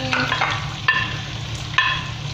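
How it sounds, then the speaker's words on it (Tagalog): Onion sautéing in oil in a frying pan gives a close, even sizzle, with two sharp clanks of a spatula against the pan. "Naglagay na ng panibagong mantika sa kawali. At maggigisa na."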